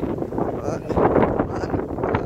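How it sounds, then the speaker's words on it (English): Gusty wind buffets the microphone in a steady roar, with a voice faintly mixed in. "it's windy"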